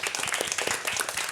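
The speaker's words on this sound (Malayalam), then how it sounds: "എല്ലാ പ്രേക്ഷകർക്കും ഒരു ബിഗ് ക്ലാപ്പ് കൊടുത്തേ മക്കളെ." Children clap together in applause for the audience, a dense, brief burst of many hands patting quickly and unevenly.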